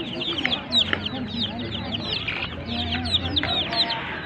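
Several chickens cluck and chatter together nearby, a busy overlapping stream of short calls with a faint murmur of voices underneath.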